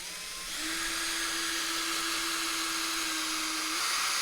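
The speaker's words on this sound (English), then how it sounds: "I need to drill some pilot holes." A power drill bores a pilot hole for screws in a wooden CLC Tenderly dinghy, its motor spinning up into a steady close whine for about three seconds before stopping, with no talk.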